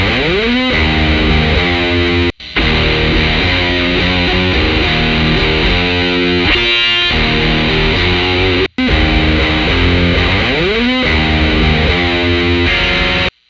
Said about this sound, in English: And here I'm using the presence tone 4038 IR.